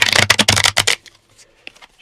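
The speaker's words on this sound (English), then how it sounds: "shuffle them up" A deck of playing cards shuffled during a tabletop APBA soccer game: a rapid, crisp riffle of fluttering card snaps for about a second, then a few faint taps as the deck settles.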